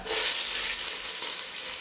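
Chopped onion sizzles loudly in hot ghee in a pan for ghee rice, a steady bright frying hiss that starts abruptly and holds evenly for a couple of seconds, with no voices.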